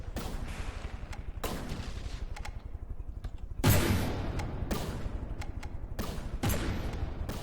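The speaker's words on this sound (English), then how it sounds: "It's got another one of its cannons active now." Warship cannons fire in the naval combat game From the Depths, a series of loud, booming shots spaced a second or so apart over a continuous low rumble, with one especially heavy blast midway.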